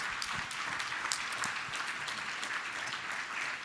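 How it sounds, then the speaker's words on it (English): Faint, distant applause from a conference audience at a security-conference plenary awards session, a steady wash of many hands clapping with no voices on top. "first a big round of applause for everyone"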